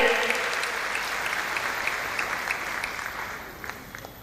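An audience at a felicitation ceremony gives dense, sustained applause that is loud at first, then slowly thins and fades over a few seconds.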